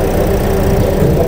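A car engine idles during an air conditioning service and freon refill, a steady close low hum with a faint mechanical drone, constant and even throughout with no talk.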